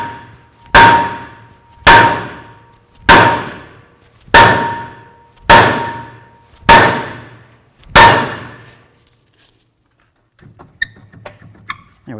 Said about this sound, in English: now we're going to continue on by bonking along the rotor to try to break it free